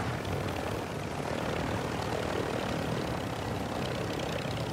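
A helicopter flies in a multiplayer video game, its engine and rotor producing a loud, steady, dense drone that fills the whole stretch without pause.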